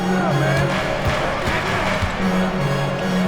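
Arena crowd cheering in the basketball video game NBA 2K26, a steady roar of cheers and whoops with a sustained horn-like tone, under a commentator's voice.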